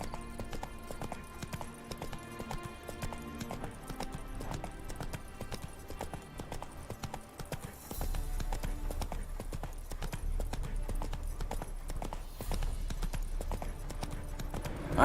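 Horse hooves trot in a steady clip-clop in The Witcher 3, heard under game music, with the rhythm growing heavier partway through.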